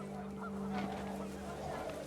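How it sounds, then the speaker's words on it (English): Panicked geese honking in the video game What Remains of Edith Finch, faint calls over a steady windy drone with a low hum running underneath. "The wind picked up, and panicked geese appeared and quickly went."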